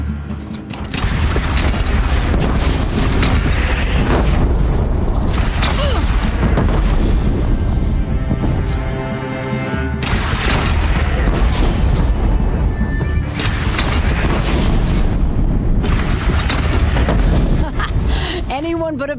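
A bandit clan's single cannon booms repeatedly in a Horizon Zero Dawn battle, heavy blasts and crashes rolling over a loud, dense din with voices mixed in.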